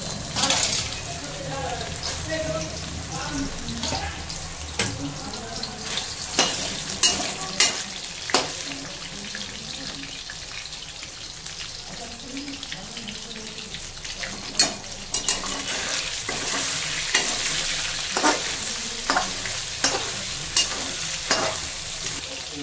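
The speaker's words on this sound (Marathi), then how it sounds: "इथे आपलं तेल गरम झालेलं आहे। आता आपण त्याच्यामध्ये सोयाबीन टाकून घ्यायची आहे।" Soybeans sizzle and fry in hot oil in a home kitchen pan, with steady crackling and repeated scraping, clinking stirs throughout, loud and close.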